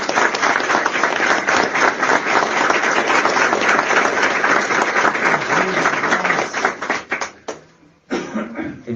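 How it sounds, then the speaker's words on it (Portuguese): A congregation at a church gathering bursts into loud, sustained applause with some scattered chuckles and crowd murmur mixed in, then the clapping breaks up and fades into a few separate claps near the end. "As palmas a Ial."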